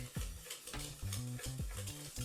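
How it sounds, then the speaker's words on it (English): A whisk stirs dry brownie ingredients in a bowl, giving quick, repeated scraping strokes at close range with a faint tonal ring between them. "I'm just gonna whisk them together really quick"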